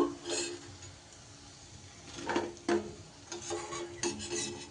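Fried potato balls are scooped out of a pan of oil, several soft scraping and clinking strokes of a utensil over a faint sizzle, quiet and close.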